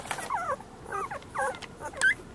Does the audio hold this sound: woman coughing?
no